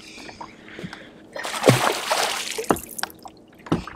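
A lake trout slaps and splashes back into open lake water, a burst of broadband splashing with a few sharp drips and sloshes close by, no talk.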